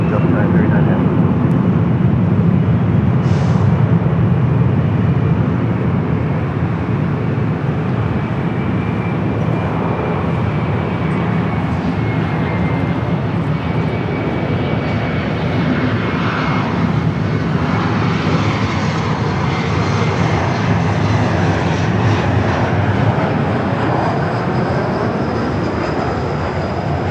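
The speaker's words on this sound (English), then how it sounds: "Heavy with 2805 on Del Rey, runway 24 left, cleared for takeoff." A heavy jet airliner takes off from runway 24 left at LAX, producing a loud, continuous, broad engine roar that holds steady throughout.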